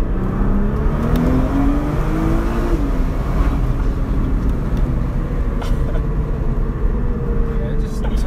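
Engine of a Nissan GTR with a dual-clutch gearbox and all-wheel drive, heard from inside the cabin while driving: a loud, steady, low rumble and whir that rises and falls slightly, with no voices.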